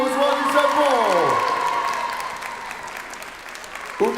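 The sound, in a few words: audience applause welcoming Umikun on stage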